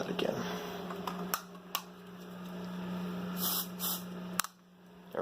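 A steady aerosol hiss, sprayed at a smoke detector, runs through most of the clip with a constant low hum beneath, broken by a few sharp clicks and short bursts near the end.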